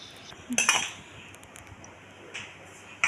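A pan set down on a kitchen stove with a sharp metallic clank and ringing clink, followed by fainter small knocks of utensils, with no talk.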